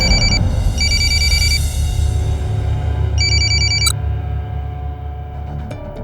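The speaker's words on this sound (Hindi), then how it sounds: "गुंजन प्लीज मेरा फोन उठाओ" A phone rings loudly nearby in repeated bursts of electronic tones, three ring bursts with pauses, over a low background rumble, then cuts off.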